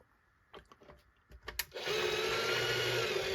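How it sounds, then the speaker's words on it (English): An RCBS carbide outside de-burr tool head switching on after a few light clicks and taps, then spinning up into a steady, close whirring hum that holds to the end. "So let's turn the tool on."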